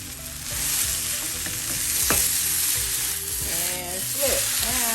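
Just Egg plant-based scrambled egg substitute fries in a hot pan for a bagel sandwich, giving a loud, continuous sizzle close by, with a few sharper crackles and scraping touches as it is flipped.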